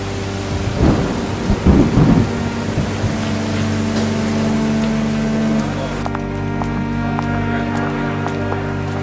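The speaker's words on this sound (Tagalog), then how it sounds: "Ayan na ang ulan." Heavy rain pours steadily throughout while low rumbles of thunder roll in the first seconds, loud and close, with no voices.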